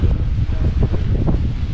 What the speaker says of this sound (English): Ooh, look how windy it is.